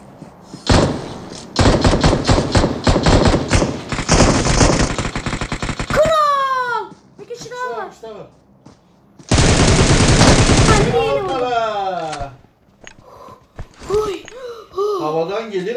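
Bursts of rapid automatic gunfire from the PUBG Mobile battle royale game rattle loudly in two long volleys, with excited voices exclaiming and talking between them.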